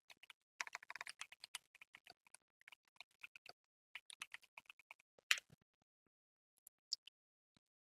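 Computer keyboard keys clicking in quick, uneven bursts of close typing, pausing between words and trailing off into a few isolated taps near the end.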